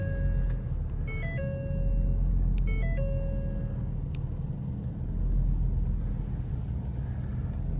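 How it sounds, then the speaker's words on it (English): A Ford F-350 Platinum truck engine rumbles steadily and loudly up close, with a short series of electronic chimes from the dash early on and no speech. "Let's start this thing out for you."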